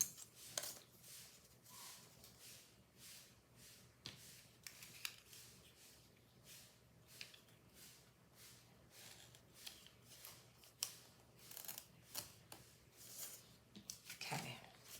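Scissors cutting paper close by, a series of short, soft snips spaced irregularly over a quiet background, some faint rustling between cuts.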